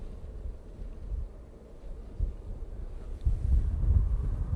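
Cold wind gusting across the microphone outdoors at Manchester Airport, a low rumbling buffet that swells and strengthens toward the end, with no voices.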